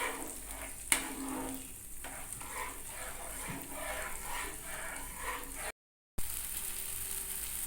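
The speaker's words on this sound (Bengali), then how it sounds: "গ্যাসের ফ্লেমটাকে লোতে রেখে খুব ভালো করে ভাজতে হবে যাতে ঝিঙের থেকে কোনো গন্ধ না আসে" Ridge gourd fries in a pan over a low gas flame, giving a steady, soft sizzle and crackle throughout, with one sharp clink early on and a brief dropout near the end.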